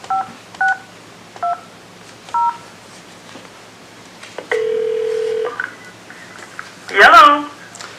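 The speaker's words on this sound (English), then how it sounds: "Please make the phone call." A short run of phone keypad touch tones dialing a call during a planning and zoning commission meeting, several evenly spaced beeps followed by a longer tone, then a brief burst of voice at the end.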